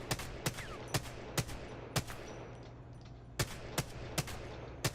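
Rapid single gunshots from body shots in the video game Apex Legends crack out about a dozen times in uneven bursts of two or three, crisp and close against a low steady hum, with no talking.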